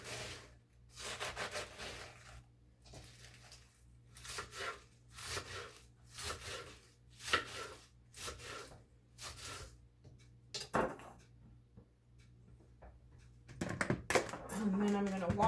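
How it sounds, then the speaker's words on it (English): A knife chops a head of lettuce on a cutting board in a home kitchen. A dozen or so crisp, evenly spaced strokes sound close by, with short quiet gaps between them. "chop it up"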